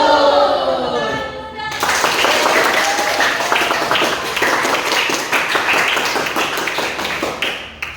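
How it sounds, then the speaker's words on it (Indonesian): A classroom of children does a patterned salute clap, with a voice and tones at the start before dense, rapid, rhythmic clapping fills the room for several seconds. "Oke, tepuk salut."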